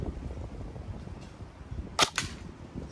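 A single sharp report from an AR-15 style rifle fired at a target at a Thailand beach resort, one loud crack about two seconds in over steady outdoor background noise.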